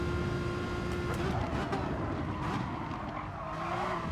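A race car in the Gran Turismo Sport video game brakes late with a steady engine drone and tires squealing and skidding under heavy braking, all loud and continuous.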